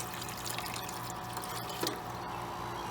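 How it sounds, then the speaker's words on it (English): Water poured into a Soleus Air GL-DEH-70EIP dehumidifier being repaired, a steady soft trickle and gurgle of liquid running through the unit, close and continuous with a brief louder splash partway through. "if I pour some water in here, we should see water start flowing through there"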